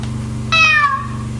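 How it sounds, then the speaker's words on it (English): A single cat meows once, a clear, fairly loud call that slides downward and lasts about half a second over a low steady hum. "Rumsfeld's got a cat apparently too"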